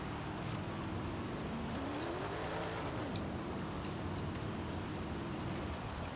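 A Cadillac CT4-V in Forza Horizon 5 rolls slowly over gravel, a dense, constant crunching hiss with a low engine tone rising and falling underneath, no voices.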